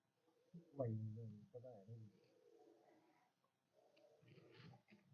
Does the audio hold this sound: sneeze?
no